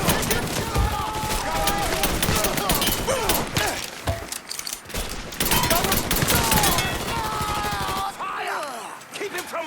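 A shootout in Mafia III during a bank job, with dense, loud bursts of automatic gunfire and rapid shots over much of the stretch, while shouting voices cut in between volleys.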